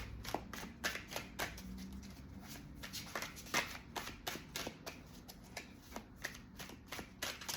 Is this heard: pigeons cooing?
no